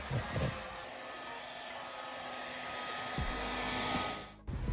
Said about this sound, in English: we're gonna go over with the heat gun so you could